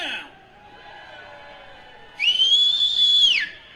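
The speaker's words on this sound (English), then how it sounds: "I whistle for myself." A person whistles one loud, sustained rising then level note, clear and close, just before addressing a holiday parade crowd in Youngstown, Ohio.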